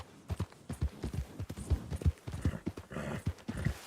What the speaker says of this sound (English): Is that what horses sound like?